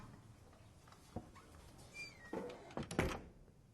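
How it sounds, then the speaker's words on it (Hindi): A door being closed indoors, a brief creak and shuffle building to a couple of knocking thuds and a latch click near the end, close and moderately loud. "दरवाजा बंद कर लो."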